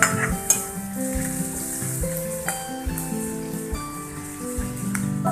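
Onions fry in a pan for fish curry with a steady crackling sizzle, broken by occasional sharp knocks of a spoon stirring against the pan, with music playing underneath.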